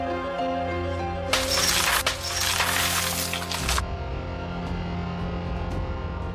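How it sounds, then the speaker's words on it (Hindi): Glass smashed to force entry into a home: a loud, sustained shattering crash lasting a couple of seconds over a steady tonal music bed, followed by a faint lingering tinkle. "मैं कांच तोड़ के अंदर आऊंगा।"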